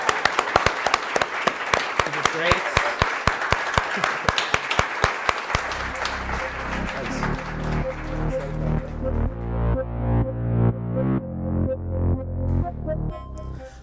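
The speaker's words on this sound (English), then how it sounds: "give him a round of applause" Audience applause for a speaker, with individual claps rising into a steady burst for about five seconds before giving way to music, and a voice speaking briefly.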